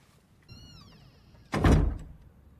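In a film scene, a bathroom door slams with a loud, heavy thud and rattle after a brief high-pitched squeak, the impact booming close and decaying over about half a second.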